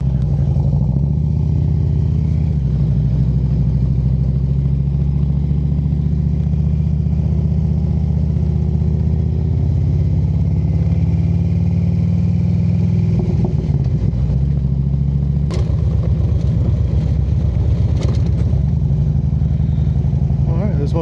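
Motorcycle riding along with a steady, loud low engine drone and road and wind noise, continuous throughout, with some clatter and rustling near the end.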